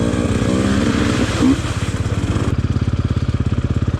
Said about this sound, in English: This is the 2020 TPI version. First time on the fuel injected 150 for me.